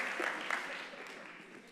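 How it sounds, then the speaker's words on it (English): An audience applauding during a Sunday talk series, a soft, fairly distant patter of clapping that fades over a couple of seconds. "Let's clap for Thomas Merton."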